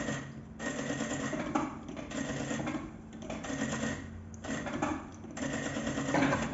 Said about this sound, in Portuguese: Agora eu vou costurar essa parte aqui da curva de cima, também por dentro